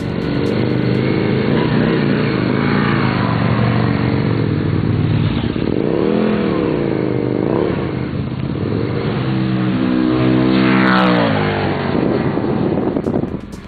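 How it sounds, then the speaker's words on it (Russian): A Rotax V990 60-degree V-twin in an MR1000 motorcycle prototype revs loudly and continuously, its pitch repeatedly rising and falling as the throttle opens and closes, with no voices. "Первым выбором был V-образный двухцилиндровый двигатель Rotax V990 с углом развала в 60 градусов"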